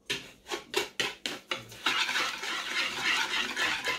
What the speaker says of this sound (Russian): И все хорошенечко перемешиваем венчиком.